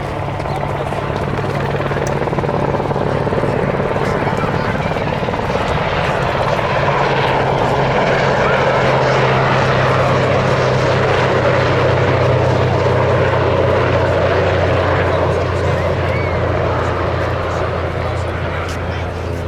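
Westland Wessex, Whirlwind and Sea King helicopters displaying at a Duxford Battle of Britain air show, a loud steady rotor and turbine roar sustained throughout, with a public-address voice talking over it.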